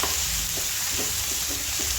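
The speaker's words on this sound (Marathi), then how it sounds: "आता आपण ह्यामध्ये किसलेला कांदा टाकायचा। कांद्याला आपण कद्दूकस केलं होतं ते टाकायचं, बरोबर आपल्याला कढीपत्ता पण टाकायचा।" Grated onion and curry leaves frying with mustard seeds in a pan, a steady close hiss with a few soft stirring scrapes and light pops, no voices.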